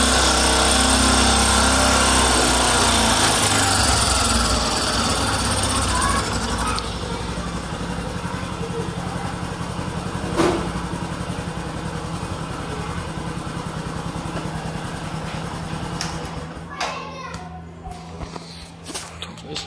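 Motorcycle engine running during carburettor RPM adjustment: a loud, close, steady idle that drops slightly in pitch and level partway through, with a brief rev and some clicks and rattles near the end.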